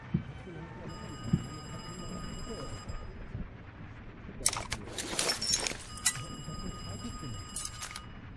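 A telephone in the Cold War video game Call of Duty: Black Ops Cold War rings in repeated bursts, a bright electronic trill with pauses between rings, over faint background ambience.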